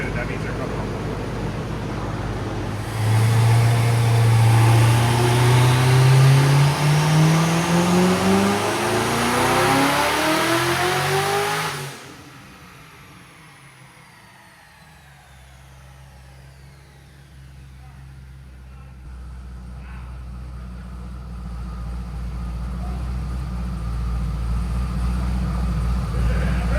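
A Porsche 911 fitted with a 900-horsepower Corvette engine revs up hard and loud for several seconds, pitch climbing steeply before cutting off, then settles into a low idle rumble that swells again toward the end.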